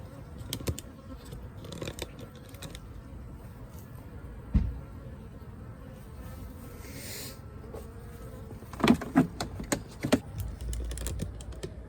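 A swarm of bees buzzes in a low, wavering drone, mixed with scattered sharp clicks and taps that cluster near the middle and end.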